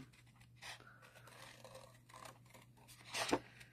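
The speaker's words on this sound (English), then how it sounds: "we're going to just cut this little guy out." Scissors cutting out a small paper card piece, with quiet snips and faint paper rustling close by and a louder crisp cut near the end, over a low steady hum.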